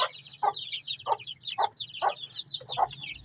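A good-breed mother hen raising chicks in a home coop, clucking in a steady rhythm of about six close, evenly spaced calls with chirpy chatter from chicks above.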